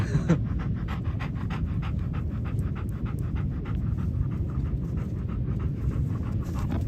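A dog pants rapidly and steadily close by, a continuous rhythmic huffing that lasts throughout without pause, outdoors at a seaside spot.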